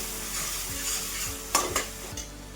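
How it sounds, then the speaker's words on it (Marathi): Onion and tomato sauté in a pan over a medium gas flame for a village-style black masala chicken dish. Continuous close frying hiss carries a few stirring scrapes, with no voices. "कांदा टोमॅटो आपला छान परतला इथं बघू शकता"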